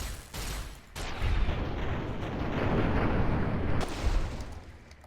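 Bombs going off in the video game Fallout New Vegas, a dense rumbling barrage of blasts swelling and holding loud for several seconds, with sharper hits at the start and near the end, no talk.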